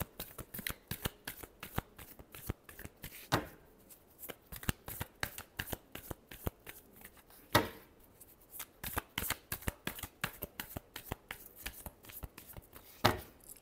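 Tarot cards being shuffled during a card reading: repeated crisp riffling bursts and soft slaps, close and fairly quiet, with no talking.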